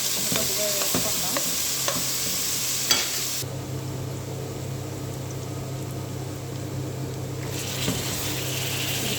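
Onion pieces fry in hot oil with a close, steady sizzle, punctuated early by a few sharp spatula scrapes, and the hiss eases partway through before flaring again; no one speaks.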